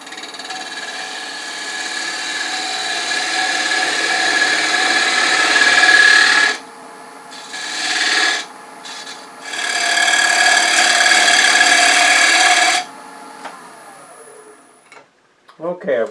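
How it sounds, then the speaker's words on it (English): A wood lathe spins while a detail gouge cuts a jewelry box blank, giving a steady loud scraping hiss that breaks off twice for short pauses before the cutting resumes, then fades out near the end. "I'm going to switch to a detail gouge."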